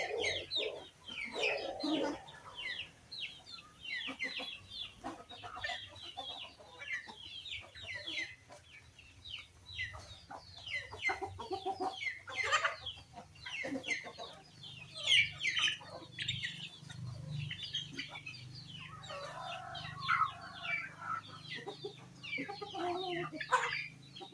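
Chickens in a cage cluck and squabble continuously in busy, overlapping bursts of calls and agitated squawks, close by, over a low steady background hum.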